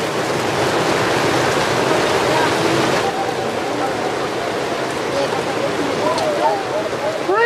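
Heavy rain with water running into a cornfield, a dense continuous rushing wash close by, with voices talking over it.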